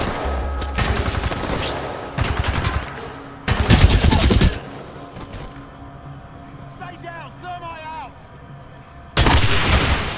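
Shotgun gunfire in the video game Titanfall 2, heard as several loud, dense bursts of shots with quieter game ambience and tonal effects between them.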